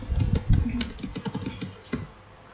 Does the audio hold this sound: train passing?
no